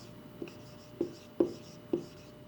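Pen or pencil strokes scratching across paper in a quiet room, four short separate marks spaced roughly half a second apart, close and fairly soft with a faint background hum.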